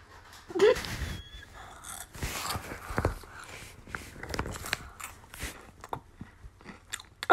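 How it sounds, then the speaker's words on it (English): Close chewing and crunching of food, with irregular bites and crunches and soft mouth and breathing noises, no talking. "Sorry, I'm chewing food."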